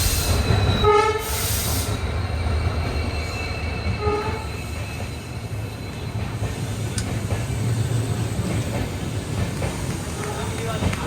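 An Indian Duronto Express train on the Delhi–Ernakulam route pulls into a station platform with a steady loud rail rumble and wheel noise, a horn-like tonal blast early on and a shorter one around four seconds.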